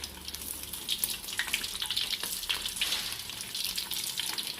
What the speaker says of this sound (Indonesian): Ini kita goreng dulu sebentar aja,